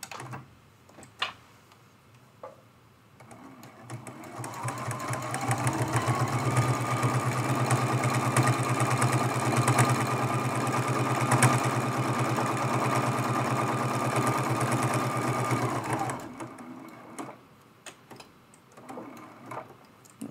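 A sewing machine runs steadily for roughly ten seconds, stitching binding down around the edge of a small quilted mug rug at a 2.6 stitch length, with faint ticks and handling sounds before and after.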